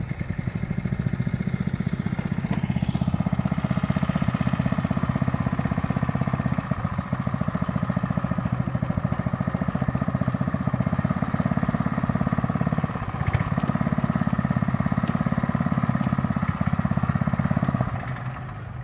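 A small gasoline engine on a Row Buster garden row-making tiller runs steadily at close range for the whole stretch, a loud, even motor drone with light mechanical clatter.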